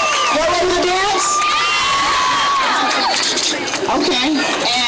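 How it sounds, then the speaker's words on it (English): A crowd at a One Billion Rising rally in Pittsburgh cheering loudly, with high-pitched shouts, whoops and excited voices layered over one another throughout. "Give yourselves a round of applause."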